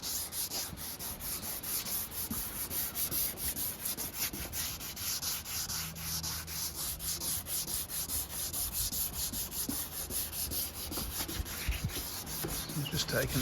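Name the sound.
sanding paint on a BMW K 1200RS motorcycle fairing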